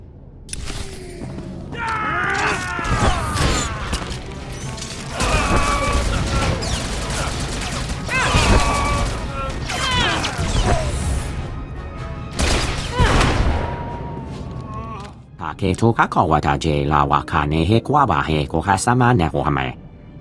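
Rapid volleys of blaster gunfire crackle in a SWTOR shootout on Coruscant, with dense overlapping bursts and a heavier rattling barrage near the end, mixed with in-game voices.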